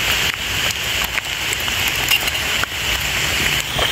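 Steady rain falls outdoors in a mushroom-foraging area, a dense even hiss of drops with a few louder patters on nearby surfaces, continuous and fairly close with no voices.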